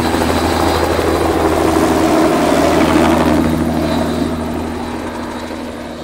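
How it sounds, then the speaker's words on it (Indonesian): A red and white fire department rescue helicopter's rotor thrums steadily with a rapid chopping beat, loud at first and slowly fading as it moves away. "Ini helikopter penolong teman-teman."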